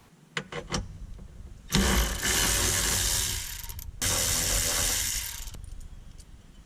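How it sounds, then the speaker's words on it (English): A ratchet wrench backs out two bolts holding a dash support bracket in a 1982-88 Monte Carlo or El Camino. Close, loud runs of rapid ratcheting clicks come in two bursts with a brief pause between them, after a few sharp taps. "So go ahead and remove the 2 bolts."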